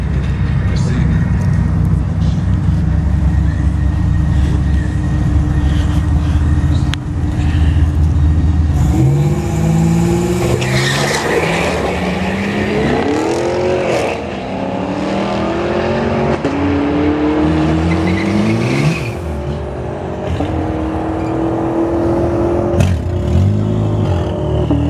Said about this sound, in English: Gotta love that Grand National turbo.